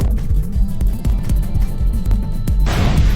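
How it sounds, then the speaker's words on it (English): Video game destroy sound effects from projectiles hitting an enemy in a Unity game, a run of repeated punchy thuds and crashes at a steady rhythm, ending in a brighter noisy burst. "Now let's go closer to the enemy to see the destroy SFX."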